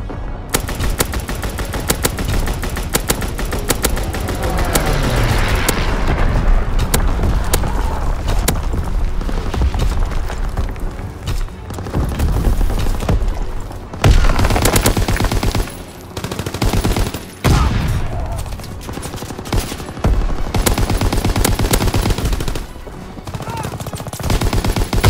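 Heavy artillery barrage mixed with rapid machine-gun and rifle fire in the Call of Duty WWII game, a dense, loud, continuous fusillade with booming impacts and brief lulls, near and overwhelming throughout.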